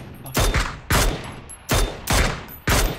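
Gunfire in PUBG aimed at a moving vehicle's tires: five loud, close shots or short bursts at a steady, unhurried pace with brief gaps between them.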